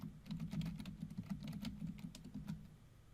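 A password is typed on a computer keyboard while setting up a Red Hat Linux user account: a quick, even run of soft key clicks, close and quiet, over a low steady hum.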